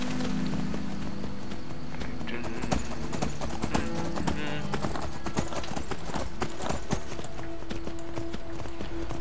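Horse hooves clip-clop in a steady running rhythm while riding in the video game Skyrim, loud and continuous with bits of game background sound mixed in.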